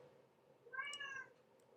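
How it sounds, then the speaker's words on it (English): A single cat meows once, a short, faint, close cry over a quiet room. "And that's my cat yelling at me."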